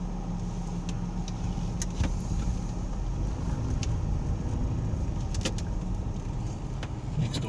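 A car cruises through a suburban neighbourhood on the way to a fuel station, its steady road and engine noise continuous and close, with occasional small rattles and clicks inside the cabin.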